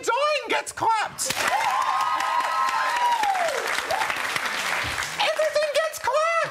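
A television studio audience claps loudly and steadily through a talk-show segment, a dense sustained wash of applause with brief speech on both sides and a voice cutting through the middle.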